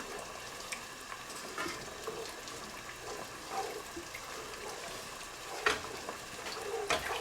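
Milk poured into a pan over a butter and flour base is stirred, producing a faint, steady wet swishing with occasional soft scrapes and taps of a utensil against the pan.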